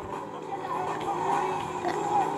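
A fast BMW in GTA IV races along with a strained engine whine and tire noise that suggests skidding. The sound is fairly loud and continuous throughout the short stretch.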